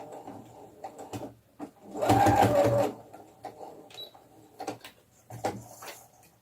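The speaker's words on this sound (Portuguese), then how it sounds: "E agora a gente vai costurar o meio do macacão." A sewing machine stitches the middle of a rag doll's pajama jumpsuit in one short, rapid, whirring burst, surrounded by quiet clicks and handling noises from the fabric and machine.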